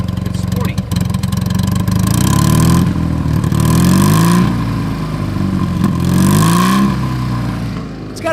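A 1966 BMW R50/2 sidecar motorcycle with a custom exhaust, revved in several close, loud bursts that rise and fall in pitch between stretches of idle.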